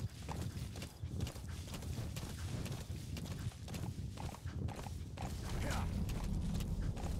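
Hooves of D-Horse clip-clop steadily through Metal Gear Solid V: The Phantom Pain, riding along a road, a continuous trotting rhythm close by with no talk over it.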